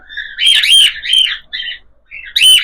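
Cockatiels chirp in a series of loud, close, high tweets and squawks, several bursts in quick succession with a short pause before a final call.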